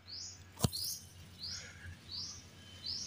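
Small birds near a bantigue bonsai outdoors give a run of short, faint chirps, about five evenly spaced calls, with one sharp tap or knock near the start.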